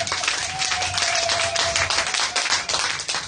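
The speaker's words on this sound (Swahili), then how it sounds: "nisikie makofi na vigelegele kwa ajili ya Bwana" A church congregation claps steadily through a Sunday Bible study and prayer service, a dense, loud wash of many hands with a faint high ululation running underneath.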